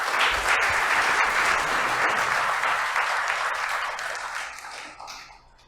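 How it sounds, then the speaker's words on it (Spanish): Sustained audience applause fills a law conference hall on compliance in criminal and labour law, a dense wash of clapping that holds steady, then gradually thins and fades toward the end. "Un fuerte aplauso, por favor."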